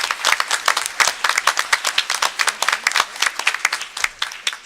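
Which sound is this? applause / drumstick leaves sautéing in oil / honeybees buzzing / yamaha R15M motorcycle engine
applause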